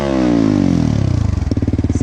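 A CFMOTO 150NK motorcycle fitted with a new aftermarket exhaust is revved hard, its engine note sweeping upward and then breaking into a loud, rapid, throbbing pulse as the revs settle. It is close and heard alone.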